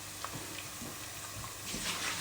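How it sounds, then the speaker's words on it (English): Rice mixture frying in a pot as a whole tin of coconut milk is stirred in for Jamaican rice and beans, a steady soft sizzle with faint scraping stir strokes, close and fairly quiet. "And I'm just going to give it a little stir."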